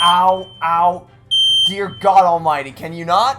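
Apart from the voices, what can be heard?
malfunctioning smoke detector beeping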